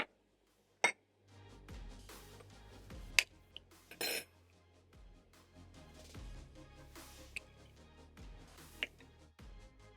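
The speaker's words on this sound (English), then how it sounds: "I'm going to be cracking in 6 eggs to a bowl" Six eggs cracked one by one into a bowl for egg stew, each crack a sharp, close tap at uneven intervals over a quiet kitchen background of soft sizzling.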